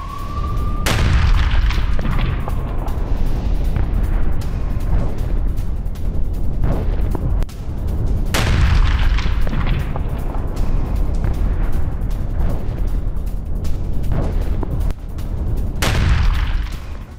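Missile strike explosions in Gaza: three heavy, loud booms spaced several seconds apart, each a sharp blast with a rolling rumble tail, over a constant dense background roar.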